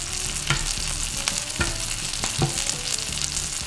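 Butter sizzles in a frying pan, a dense crackling hiss held throughout, broken by scraping strokes of a utensil stirring at a steady pace.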